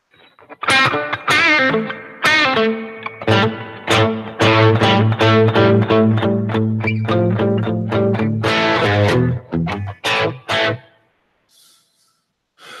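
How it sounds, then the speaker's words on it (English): Electric guitar played through a Line 6 HX Stomp set to a legacy spring reverb, ringing picked notes and chords over a sustained low note, loud and close, ending in a decaying tail and then near silence. "put a reverb, and we're gonna go legacy, and we're gonna go to spring"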